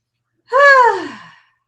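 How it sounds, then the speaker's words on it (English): One slow, voiced intake of breath, close and clear against silence, rising quickly then tapering off over about a second. "And just breathe that in."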